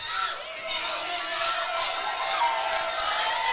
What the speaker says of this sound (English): this crowd is hot for Nathan Estrada